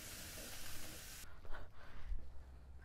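Vegetables hit a hot pan with a loud, broad hiss that starts the clip and then drops away abruptly, followed by soft scraping and movement sounds.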